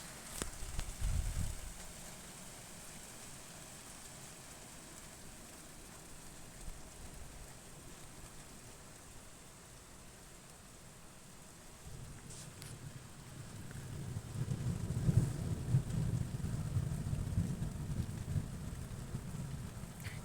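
Faint, steady rain hisses through a thunderstorm while low, distant thunder rumbles swell at the start and again more broadly toward the end, with no talking.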